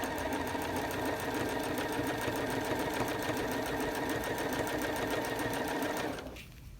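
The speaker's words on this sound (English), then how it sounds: "So I'm going to go ahead and just sew these last two up" A sewing machine stitches quilt blocks in one continuous, close, even whir that runs steadily for about six seconds before stopping abruptly.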